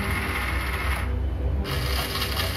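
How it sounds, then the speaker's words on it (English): Small electric drive motors on a LoRa and Arduino controlled agriculture robot whir steadily as it drives forward, a close, continuous mechanical buzz with no voices. "as you can see at the moment, the motor robot is moving forward"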